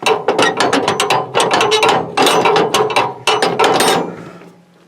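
A plastic diesel fuel can lid is wrenched and ratcheted, loud rapid clicking bursts close up, repeated in several strained attempts before fading.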